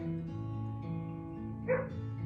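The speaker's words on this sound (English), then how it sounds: "The dog is at the door barking." A dog barks at the front door, heard as one short, muffled burst over a steady household hum during an indoor exercise class. It sounds somewhat distant.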